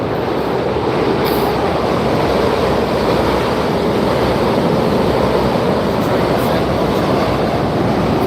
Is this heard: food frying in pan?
no